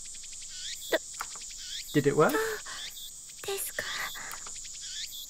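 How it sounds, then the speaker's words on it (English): Cicadas in the Steins;Gate video game drone in a steady high buzz throughout, with a voice briefly speaking over them midway. "Nearly sound as the chirping of cicadas."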